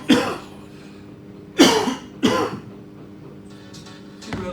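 A few short, harsh coughs or throat-clearing bursts, spaced apart and fairly close, with quiet background between them.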